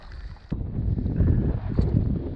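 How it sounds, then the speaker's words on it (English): Steady low wind rumble buffeting the microphone on a saltwater fishing trip on the Outer Banks, growing stronger after a sudden gust, with choppy water noise underneath. "Now it's all choppy and windy."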